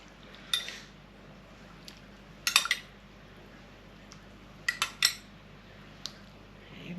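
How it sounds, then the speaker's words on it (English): Dessert spoon clinking against a pot or pie tins while stock is spooned into Scotch pies, a few sharp metallic taps scattered across a quiet kitchen, some in quick pairs. "And now I want a dessert spoon, and you put in about 4 dessert spoons of stock."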